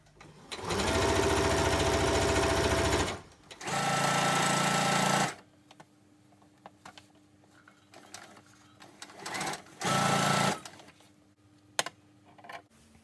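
A sewing machine stitches a seam on wide leg trousers in loud, rapid bursts of whirring, three main runs separated by quiet pauses with small clicks and handling noises.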